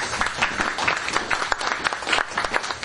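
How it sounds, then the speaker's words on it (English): An evening audience gives a round of applause, dense overlapping hand claps filling the room at a steady, lively level throughout. "So I want you to give yourselves a round of applause"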